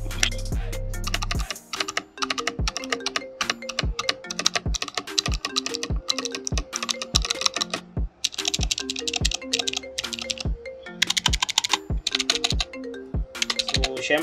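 Keystrokes on a Rakk Lam-Ang Pro mechanical keyboard with stock stabilizers, including space bar presses, in a close series of distinct clacks and thocks with short pauses, no voices.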